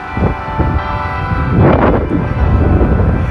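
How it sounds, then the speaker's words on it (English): Church bells ringing with a rich, layered metallic tone, loud and sustained, overlapping strikes blending into a continuous peal. "It's always nice to hear the church bells."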